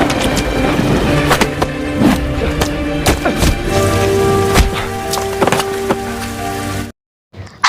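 Heavy rain pours steadily through a fistfight in an action film, mixed with repeated heavy thuds and impacts, before dropping to sudden silence near the end.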